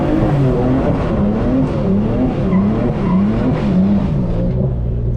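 A manual BMW M3 on worn tires spins donuts on a damp surface, its tires squealing in wavering, looping tones over a constant loud engine drone, with no talking.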